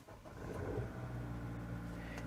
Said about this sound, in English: first step is that you start your car